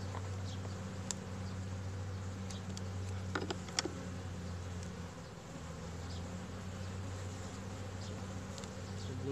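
Honeybees inside a beehive during a queen-laying check on nucleus hives, a steady low droning hum with faint scattered clicks and buzzes, quiet and continuous with no voices.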